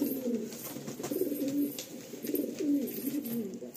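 Kaldam line male pigeon cooing close by in repeated low rolling bursts, a steady throaty murmur with short swells and dips, and no voices over it.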